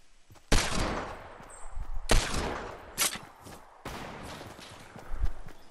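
Gunfire bursts in a Fortnite duo fight: several sharp, loud shots land at irregular intervals, separated by brief pauses.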